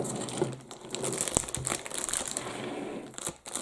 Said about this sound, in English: slowly getting it out of the packaging